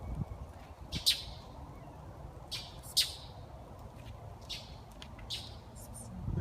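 A bird dive-bombing a cat gives sharp, high squawks and chirps at irregular intervals, fairly faint and moderately distant over low outdoor background noise.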